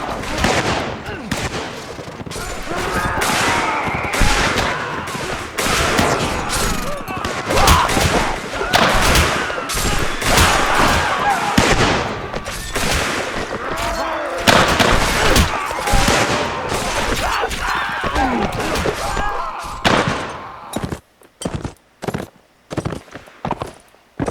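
Dense ragged musket volleys and scattered rifle shots from US Civil War infantry in a video game mod, crackling continuously before thinning to isolated reports, with shouted voices mixed in.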